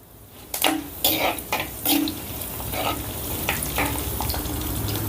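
Cumin, mustard seeds, dried red chillies and curry leaves crackle and sizzle in hot oil, with a few sharp bursts early on settling into a steady frying hiss close by.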